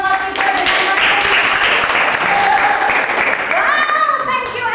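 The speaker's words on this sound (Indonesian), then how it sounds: "Beri tepuk tangan untuk kelompok 3 bersama kami." An audience in a classroom applauds a student group after their presentation, a dense clapping wash that stays loud throughout, with cheering voices and talk mixed in.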